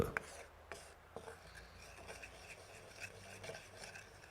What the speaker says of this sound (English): We grate a bit of asafoetida.